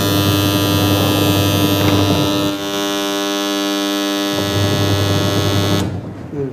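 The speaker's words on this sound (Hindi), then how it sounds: "बजर यहाँ पे ऑन हो चुका है और लगभग 15-20 सेकंड तक चलेगा" A washing machine's end-of-cycle buzzer sounds as a loud, sustained electronic drone with a harmonic hum that briefly dips midway, resumes, then cuts off abruptly near the end.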